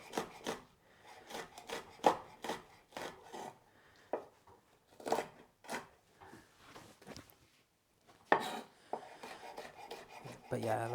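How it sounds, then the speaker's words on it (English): Knife slicing cayenne, green and red chilies on a cutting board, a series of crisp, close chopping strokes in irregular bursts with short pauses between them. "So I have some cayenne, some green, and some red. So I'll just slice these."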